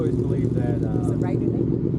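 An arriving motorcycle gives a low, steady engine rumble throughout, with people talking over it.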